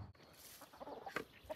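Chickens clucking inside a chicken tractor, a movable cage on grass at a permaculture homestead; a few close, scattered clucks and short calls over a steady outdoor background.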